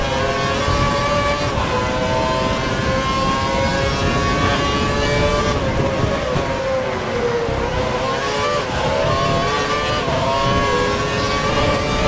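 Formula 1 race car engines from the F1 2012 racing game, driven at Melbourne, Australia, whine loudly and continuously with shifting pitch as cars run close together, with no talking.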